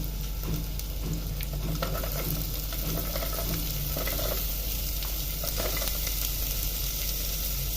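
Roughly chopped onion fries in a pan for mutton gravy, making a dense continuous sizzle with faint stirring scrapes under it, steady and close.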